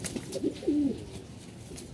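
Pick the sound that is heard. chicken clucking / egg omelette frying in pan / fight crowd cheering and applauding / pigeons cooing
pigeons cooing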